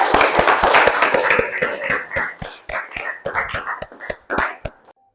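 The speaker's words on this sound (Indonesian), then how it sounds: "Baik, tepuk tangan dulu" Students in a classroom clap their hands together, starting as a dense round of claps and thinning into scattered, separate claps that fade out and stop near the end.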